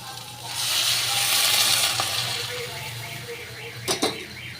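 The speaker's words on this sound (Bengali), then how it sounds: "এবার আমি জল দিয়ে দেব।" Water poured into a pan of frying potatoes and bitter gourd, a broad rushing hiss that swells loudly then eases into steady sizzling, ending with a couple of sharp clatters.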